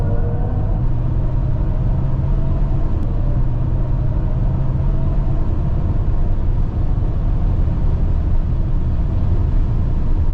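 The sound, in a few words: BMW iX electric car performance driving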